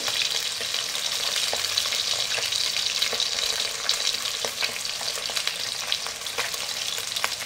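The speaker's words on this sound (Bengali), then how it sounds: "আর কিছু মাছ আমার দিয়ে দিয়েছি কড়াইতে" Bhetki fish pieces fry in oil in a wok, giving a steady close hiss with scattered crackles and light stirring clicks throughout, without any voices.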